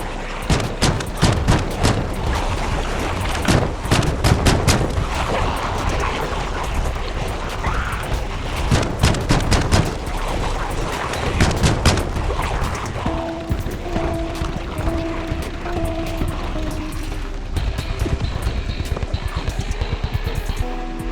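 Repeated shotgun blasts from the zombie survival game Project Zomboid, fired at a horde, loud sharp bursts in irregular volleys over the first twelve seconds, then quieter game sounds and a faint melodic tone.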